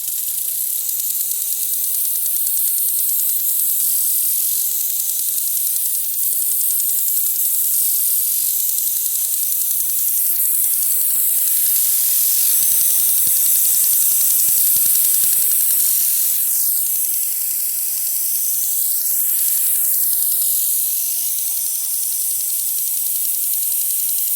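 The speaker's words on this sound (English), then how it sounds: "I have it on a really mist type spray by pushing the top of the head down and adjusting that." Above-ground garden sprinkler on a budget DIY system spraying a fine water mist over a seeded lawn, a steady bright hiss throughout with faint swishing sweeps as the spray moves.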